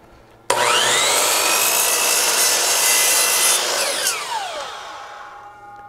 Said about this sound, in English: if you're using a chop saw, don't just chop it. Ease into that cut or you'll end up with a real jagged edge